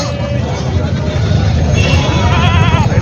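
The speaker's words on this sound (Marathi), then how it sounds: "या साईडला शेळ्या बांधलेल्या आहेत" Osmanabadi goats bleat amid the hubbub of a busy goat market in Vasmat, Hingoli, Maharashtra, several wavering cries rising over someone talking and a background crowd murmur.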